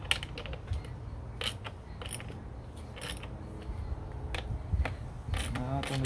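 Close, faint metallic clicking and ratcheting while a propane conversion fitting is threaded onto a Honda EU2200i inverter generator, irregular small clicks over a quiet background.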